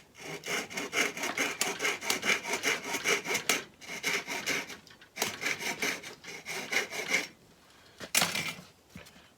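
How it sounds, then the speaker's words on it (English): Hand saw cutting wood for a cigar box guitar, steady rhythmic back-and-forth strokes in several runs with short pauses, close and clear with no talk. "I think I can get it cleaner with this saw."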